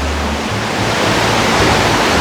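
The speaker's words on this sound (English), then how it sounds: "Look how much water's coming through there." River water rushes loudly and steadily near the Little Huson Caves on Vancouver Island, a dense, unbroken roar with no other sounds over it.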